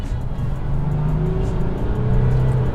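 A 2016 Volkswagen Amarok V6 4Motion pickup revs under hard acceleration, its engine note rising steadily and loud, heard alone without talk.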